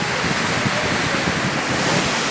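A waterfall near Riyadh, Saudi Arabia, pours and splashes in a dense, steady roar heard close up, with wind buffeting the microphone and no voices.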